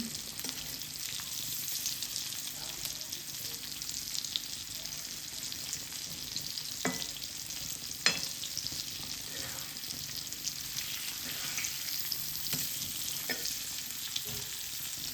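Pomfret fish coated in masala and rice flour sizzles steadily in a frying pan, with a few soft scrapes and knocks as it is flipped, close and continuous.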